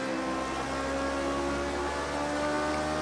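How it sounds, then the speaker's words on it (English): A racing car in Project Cars 2 at the 1967 French Grand Prix circuit drones steadily as the driver gears down and holds the revs high, a continuous engine whine. "Here we just gear down, just keep those revs high."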